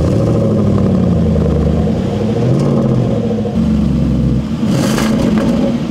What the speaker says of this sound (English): the four exhausts at the back of the car, which, as you can hear now, makes it sound absolutely fantastic